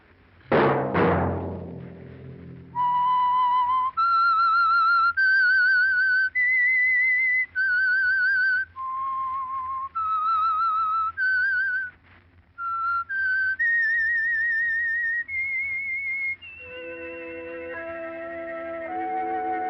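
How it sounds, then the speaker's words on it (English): The whistled signature tune of The Whistler, a 1947 Signal Oil radio mystery program, opens with a ringing orchestral strike. A lone, clear whistle then carries a slow, eerie melody of held notes before soft orchestral chords take over. "Let that whistle be your signal for the Signal Oil program, The Whistler, each Monday at 9"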